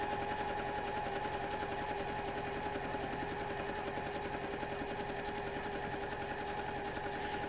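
A sewing machine runs continuously during free motion quilting, its fast, even needle chatter close and steady throughout, with no talking.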